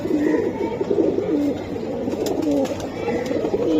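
Several Giribaz homer pigeons coo in repeated low, throaty bursts close by at a seller's flock, the calls overlapping in an uneven rhythm against a steady background hum.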